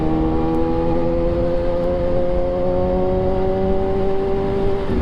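A CH2 motorcycle being ridden, its engine holding a steady droning tone with smooth rising pitch, loud and close throughout, alone without voices.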